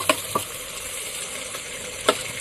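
Chicken pieces go into a hot pot for handi chicken with onion and tomato, setting off a steady sizzle broken by a few sharp crackles and pops of frying.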